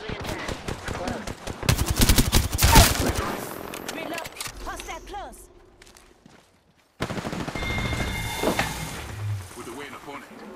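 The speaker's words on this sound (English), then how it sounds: "I'm taking fire." Rapid automatic gunfire in an Apex Legends ranked match, loud bursts of weapon fire crackling in quick succession, dropping out briefly before more shots and game effects resume.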